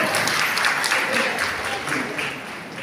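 Applause at a fifth birthday celebration, a steady crowd clapping that fills the whole stretch at a fairly even level.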